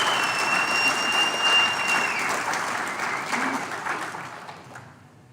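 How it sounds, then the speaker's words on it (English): A round of audience applause at a corporate event, dense clapping that holds steady and then gradually fades out over about five seconds. "a big round of applause for all of them"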